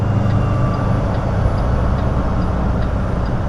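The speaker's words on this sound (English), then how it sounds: "We're gonna wake it up with this loud old truck" A loud, steady engine rumble dominates throughout, heavy and low like an old truck idling or driving nearby, with no voices.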